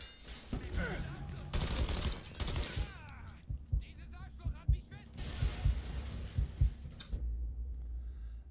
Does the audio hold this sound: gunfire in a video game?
yes